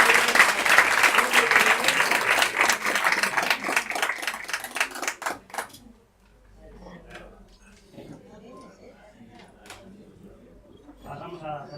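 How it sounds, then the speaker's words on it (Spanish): An audience at a Halloween-special PechaKucha night applauds a presenter with a loud, dense burst of clapping that lasts about six seconds, then drops abruptly to quiet room murmur and scattered small sounds. "Bueno, pues un aplauso para Ismael,"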